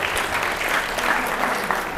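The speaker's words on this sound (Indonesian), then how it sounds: "Tepuk tangan." Steady applause from a room full of people, a dense wash of clapping held at an even level for a couple of seconds.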